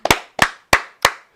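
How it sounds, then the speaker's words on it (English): Crisp, close hand claps, four sharp evenly spaced smacks in quick rhythm, each ringing out briefly into silence, with no voices. "I love the 2 claps."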